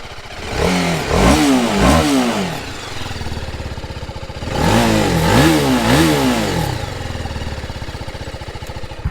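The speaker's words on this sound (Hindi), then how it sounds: "आपको इसका एग्जॉस्ट नोट सुनाता हूँ" A TVS Apache RR 310 motorcycle's exhaust revved up twice in quick repeated blips, each burst rising and falling sharply, with a rough idle rumbling between the two rev sequences, loud and close with no talk.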